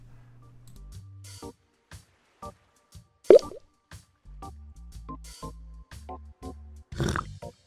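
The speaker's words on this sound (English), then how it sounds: "it's going to be about a minute or so where water drips into it" Water drips one drop at a time into coffee in the point-and-click game The Journey Down, giving a string of clear, separate plops in a slow, uneven rhythm with quiet gaps between them, alone and without talk.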